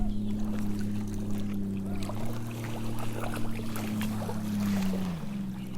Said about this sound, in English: That's nice, just making that beautiful sound of water